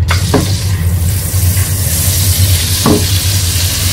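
Butter melting and sizzling in a pan for a makhani-style gravy, a steady close frying hiss running throughout with a few brief sharp crackles and stirring scrapes, no talking.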